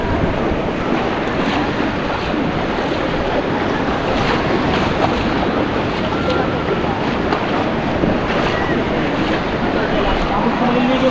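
Ocean waves at high tide off Siargao wash in a continuous loud roar of surf mixed with heavy wind buffeting the microphone, with no clear breaks over roughly eleven seconds.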